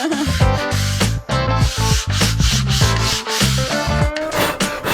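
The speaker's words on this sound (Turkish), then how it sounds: "bayağı zımpara yapmışsınız" Steady back-and-forth hand sanding of wood, loud and close, with rhythmic abrasive strokes repeating without pause.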